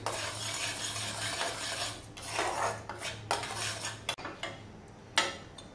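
Mawa roasting in a pan is stirred with a metal spoon, giving scraping strokes and sharp clinks against the pan over a faint steady hum, close by and without speech.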